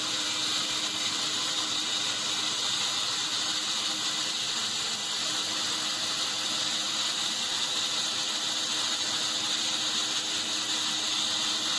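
A steady, loud mechanical whine with a bright high-pitched buzz runs continuously as a sawmill blade cuts through lumber at full speed, with no pauses.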